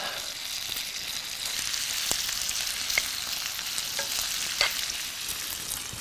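Chopped onion frying in a pan near the end of cooking, a steady close sizzle with occasional sharp pops and the light scrape of stirring, with no talking.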